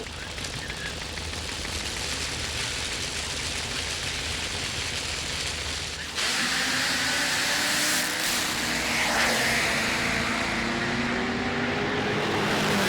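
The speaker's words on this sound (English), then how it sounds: "It's an unbelievable drag race and history in the making." Drag racing vehicles in a final at a 2008 Australian ANDRA meeting, roaring down the strip in a loud, continuous blast of engine noise that shifts abruptly midway as the cars pass, with rising whines audible through the din.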